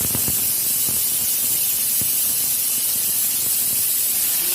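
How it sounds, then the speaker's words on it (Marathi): Cumin seeds sizzle in hot oil in a heated kadhai for a fasting potato bhaji, producing a loud, close, continuous hiss with a few faint pops and ticks and no talk. "इथे मी कढई पण तापत ठेवलेली आहे कढई पण तापलेली त्याच्यात आपण जिरं"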